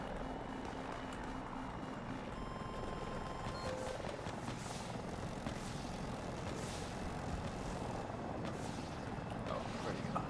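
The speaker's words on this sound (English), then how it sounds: "Also a heli. I gotta go take care of this heli." A helicopter drones steadily in Battlefield 2042, its rotor and engine noise blending into constant battlefield rumble with faint distant impacts throughout, and no talking.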